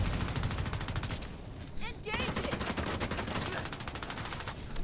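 Rapid sustained gunfire in The Division 2, a steady rattling stream of evenly spaced shots from a high-capacity weapon, loud and continuous with a brief pause midway.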